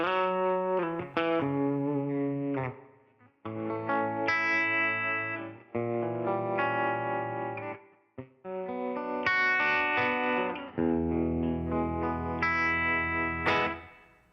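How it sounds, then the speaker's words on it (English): An electric guitar runs through a modulated chorus echo with a quarter-note delay on a Helix Stadium, playing sustained chords in phrases with brief gaps, shimmering repeats trailing each strum, clean and alone. "Then I have a mod chorus echo, like a normal quarter delay that you control."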